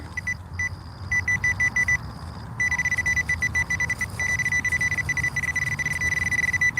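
A Nokta Makro Simplex Plus metal detector beeps over a buried target at night, its high electronic tone repeating in short pulses that turn into a loud, steady signal.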